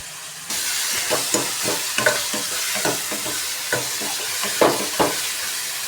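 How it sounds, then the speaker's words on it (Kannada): Onion and tomato fry steadily in a pan at close range, a continuous loud sizzle with repeated scraping stir strokes rising in rhythmic bursts above it. "ಒಂದು ಕಡೆ ಈರು ಟೊಮೊಟೊ ಈರುಳ್ಳಿ ಫ್ರೈ ಆಯ್ತಾ ಇದೆ"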